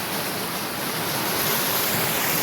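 A monsoon-swollen river in a Konkan village in Maharashtra, rushing down from upstream, a dense, loud, unbroken roar of flowing water with no voices.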